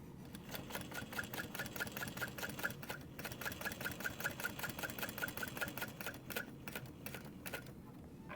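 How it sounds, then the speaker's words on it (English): A domestic sewing machine stitches around the outside edge of a mini backpack, running steadily and fast with a rapid mechanical clatter and brief pauses, close by with no voices. "we're going to sew around that outside edge."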